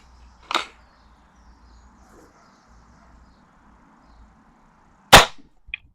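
Rifle fired in a budget rifle competition, two sharp loud cracks several seconds apart over a faint low hum, with a small click just after the second shot.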